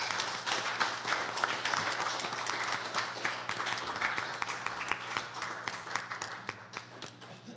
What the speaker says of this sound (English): will you guys clap your hands one more time for our sound guy, Chris Miga, in the back?